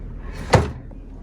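A drawer in a historic national park hotel room slides open or shut with a single short, sharp knock and a brief rumble, fairly close and alone in a quiet room.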